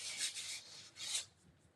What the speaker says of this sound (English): And I'm sanding the edges.